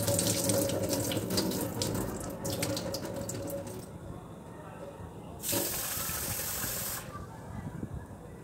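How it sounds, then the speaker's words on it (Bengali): Running tap water pours and splashes into a sink as rice and lentils are rinsed, close and steady, with the stream cutting off and bursting back on briefly partway through. "এবার চাল আর ডালটাকে আমি 3 থেকে 4 বার জল দিয়ে ভালো করে ধুয়ে"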